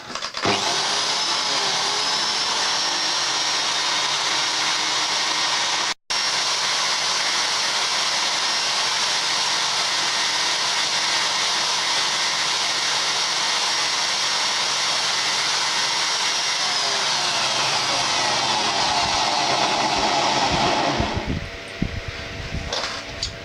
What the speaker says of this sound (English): I'm just a little bit worried about breaking a good drill sitting it spinning